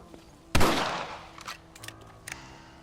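A rifle fired in the Western video game Red Dead Redemption: one loud, sharp shot with a long fading echo, followed by a few faint clicks and light knocks.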